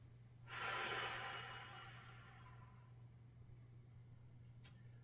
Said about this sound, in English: Use your pursed lip breathing to recover faster.